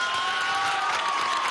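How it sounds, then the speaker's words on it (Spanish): An audience at a student participation law event claps and cheers loudly, a dense continuous wash of applause throughout. "Un aplauso fuerte a John Kleiber Ballestero."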